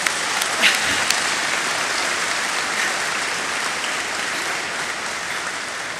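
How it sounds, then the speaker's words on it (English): A large crowd at a secondary school graduation claps steadily and continuously, a dense, even wash of applause with no talking. "So if we could give all of our MSS staff a round of applause."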